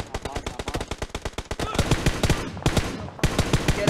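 Rapid automatic gunfire from the mobile battle-royale game PUBG Mobile, loud and close, rattling in dense bursts with brief gaps, a second sustained stretch of shots following a short pause.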